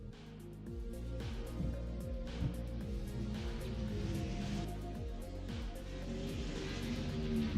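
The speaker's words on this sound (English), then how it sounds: "A little bit of a quieter car out there on the track for tonight." Drift car out on a track at night, probably a Nissan 350Z or 370Z, its engine revving up and down in repeated rising sweeps, fairly distant and moderately quiet, with no talk over it.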